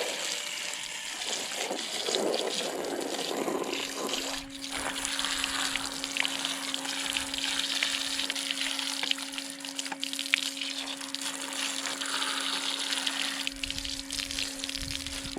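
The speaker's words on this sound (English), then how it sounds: "We're just going to take our regular garden hose and just start washing this" Regular garden hose spraying onto a Dolphin robotic pool cleaner filter outdoors, a continuous close rush and splatter of water that shifts in tone as the stream moves, without speech.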